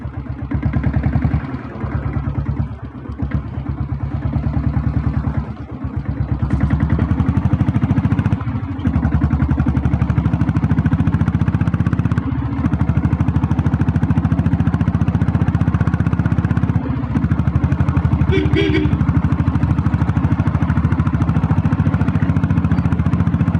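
Royal Enfield diesel Bullet motorcycle engine thumping steadily while riding, a loud, continuous low beat close by with slight rises and dips in revs and no speech.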